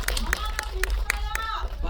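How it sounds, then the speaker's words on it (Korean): At a film Q&A screening, an audience gives scattered, evenly spaced claps, a few sharp hand claps sounding under a voice that keeps talking. "박수 치고 싶으면 치세요"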